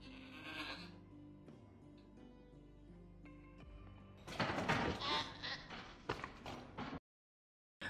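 A goat bleats in a film scene where it is placed in a tiger's enclosure, its cries over a quiet tonal background. A louder burst of noisy, clattering sound follows before the clip cuts to silence.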